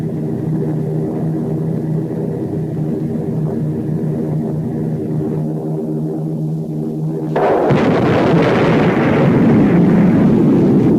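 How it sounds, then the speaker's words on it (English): Atom bomb explosion film effect from a 1950s invasion movie: a steady droning rumble, like aircraft engines, breaks after several seconds into a loud, broad blast roar that keeps building to the end. "The atom bomb has been dropped on the United States of America."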